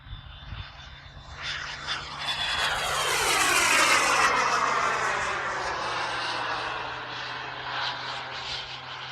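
Giant radio-controlled T-38 Talon scale model jet at full throttle through a loop, a loud rushing turbine roar that swells as it passes close overhead then sweeps downward in pitch and fades slightly, with no voices.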